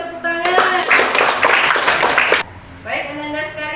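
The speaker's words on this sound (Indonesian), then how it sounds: "Kita kasih juga tepuk tangan." Students in a classroom clap together in a dense burst of applause for about two seconds, which stops abruptly, followed by a teacher talking.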